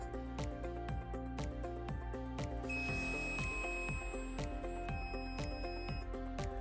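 Piezo alarm on a dental and metal production countdown timer sounding at zero, a run of sharp repeated electronic beeps over steady rhythmic tones, loud and close, with a thin high whine joining partway through.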